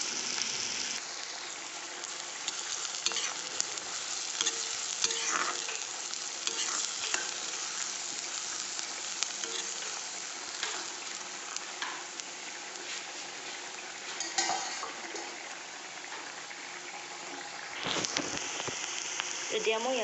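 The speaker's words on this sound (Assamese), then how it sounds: "পিঁয়াজখিনি অকণমান ভাজি ল'ম" Onions fry in hot oil in a wok while being stirred, a continuous close sizzle punctuated by scraping and clatter of the spatula, with louder stirring bursts near the end and a faint voice now and then.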